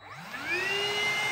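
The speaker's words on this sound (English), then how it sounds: "It's a dual cyclonic cordless stick vacuum." A dual cyclonic cordless stick vacuum spins up on low power, a rising whine that settles into a steady close whir.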